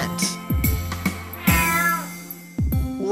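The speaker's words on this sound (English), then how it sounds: "a cat." A cat meows several times in a children's Christmas song setting, with clear repeated meows over a steady musical backing.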